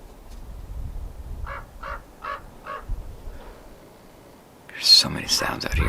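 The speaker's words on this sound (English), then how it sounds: "There's this bird that's just flying around." A bird calls outdoors in Yucca Valley, a run of four or five short, evenly spaced, fairly faint calls, followed by a louder burst of close, scratchy noise near the end.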